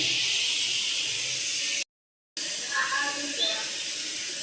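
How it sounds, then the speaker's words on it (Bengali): Fish and bitter gourd frying in a pan give a steady, close hiss of sizzling oil, broken by a brief silent gap, with faint clinks of utensils afterward. "মাছ ভাজা, করলা ভাজি বসেছি।"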